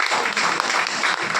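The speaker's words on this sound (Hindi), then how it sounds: "तालियां।" A crowd at a Vestige business event claps in dense, continuous applause, loud and close, for the whole short moment.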